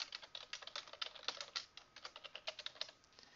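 Fingers type rapidly on a computer keyboard, a close, quiet patter of irregular key clicks with no talking.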